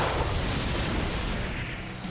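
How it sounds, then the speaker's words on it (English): A video game gunshot sound effect: a dense, continuous roar of booming gunfire fills the whole stretch, loud and unbroken like rapid artillery. "Alex pulled the trigger and let a bullet fly straight at Damien's head."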